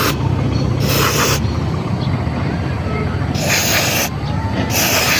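CVT/FI cleaner sprayed from an aerosol can in close, loud hissing bursts: two back-to-back at the start and two more later, with a low background rumble between them.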